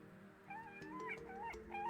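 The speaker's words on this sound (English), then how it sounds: "Oh, I got a black cat!" A black cat meows in the video game Terraria, with several short, rising and falling tonal calls in a steady, moderately loud run over low background game music.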